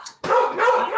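A dog barks close by: a quick yip, then a brief gap, then a full, loud bark that breaks into a second burst, all within about a second.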